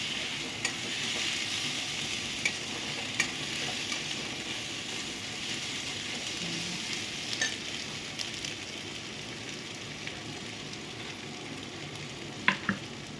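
Rice fries in a pan with a constant bright sizzle. Occasional scraping stirs and light taps against the pan sit over it. The sound is close and continuous, with no talking.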